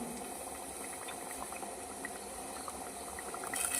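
Homemade hair oil with a ground leaf paste simmering in a pot, giving a faint, steady bubbling and crackle of hot oil. The sound stays even throughout, with no voices.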